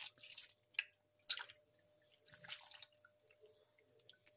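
Water drips off boiled rice noodles (khanom jeen) set to drain in a strainer, a few soft, irregular drips and light wet patters over several seconds, close and fairly quiet with no talking.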